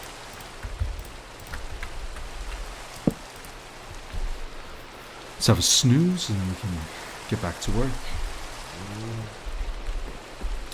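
Steady hiss of rain falling in the blocky survival game Minecraft, with a few thuds, runs throughout while someone talks over it in the foreground.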